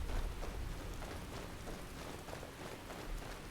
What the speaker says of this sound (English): It's not quite snow cold, but cold enough that the snow is still there and it's raining.